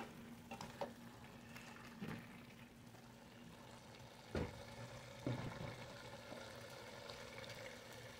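Beef pochero simmering in a pot, with a faint bubbling and sizzling bed under a few soft knocks and stirring clunks against the pot. It is quiet and close.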